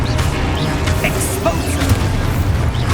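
A Confringo spell blast goes off in Hogwarts Legacy, a loud booming burst with crashing impact over dense, busy game sound and music, continuous and energetic throughout.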